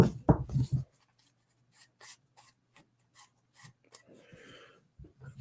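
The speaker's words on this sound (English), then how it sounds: "Once I break these in a little bit and get some of the wear on them, they'll probably shuffle even better." A new deck of tarot cards being shuffled, with a short burst of riffling and flicking followed by several faint, scattered card snaps and slides.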